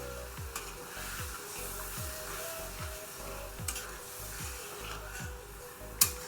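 Mung dal and pointed gourd sauté in a pan as milk is poured in, giving a steady close sizzle with rhythmic scraping stirs throughout and a sharp clink near the end.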